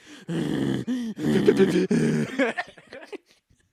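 A person imitates cartoonish panting with loud, strained, breathy grunts and groans in quick uneven bursts, close to the microphone, trailing off at the end.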